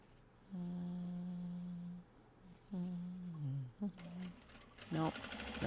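A sewing machine stitches Japanese fabric for a belt bag, whirring in two distinct runs with a steady motor whine that shifts pitch as it slows, then gives way to close clattering handling noises.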